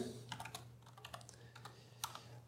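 Quiet, close clicking of keys being typed on a computer keyboard in short irregular bursts, with a faint steady electrical hum underneath and no talking.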